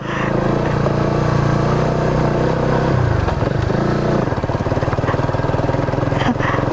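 Rusi Flash 150X motorcycle engine laboring loud and close on a rough uphill road, a steady droning rumble that dips briefly around the middle then settles into a rougher, pulsing note.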